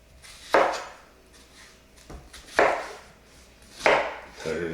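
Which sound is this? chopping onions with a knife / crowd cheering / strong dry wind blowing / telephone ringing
chopping onions with a knife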